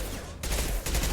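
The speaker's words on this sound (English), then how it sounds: "And I'm using my submachine gun." A submachine gun firing cryo rounds in Mass Effect 2, a brief rapid burst of automatic shots that cuts in sharply and stays loud to the end, with a voice faintly underneath.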